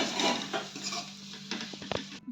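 Pasta being stirred into gravy in a pan, close wet squelching and scraping with a few spoon knocks against the metal, brief and fairly quiet.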